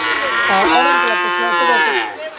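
A single long, loud moo from a Holstein Friesian bull calf on a cattle farm, close by and drawn out for about two seconds before fading.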